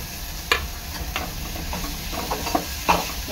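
Smashed potato is stirred into a frying mixture in a pan: a steady sizzle with several sharp scraping strokes of a spatula, close up.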